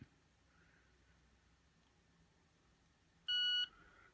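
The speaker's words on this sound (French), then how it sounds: "Un petit bip." A single short electronic beep from a Victor Reader Stream 2 audio player powering on, clear and steady for about a third of a second, over a quiet background hum.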